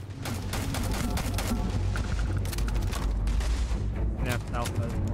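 Rapid projectile gunfire from the video game Starfield, a dense, continuous barrage of loud overlapping shots and booms filling the whole stretch, with a voice speaking briefly over the shooting.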